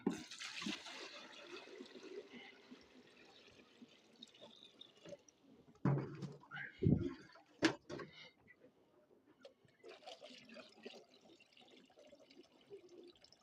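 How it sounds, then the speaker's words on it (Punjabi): Water runs and splashes steadily into a bucket, with a few louder sloshes and clunks partway through; no talking. "ਇਹ ਬਾਲਟੀ ਚ ਨਾਲ ਪਾਣੀ ਭਰਨਾ ਹੈ"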